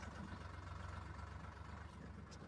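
A tractor engine idling, with a low, steady rumble that holds even and fairly quiet from start to finish.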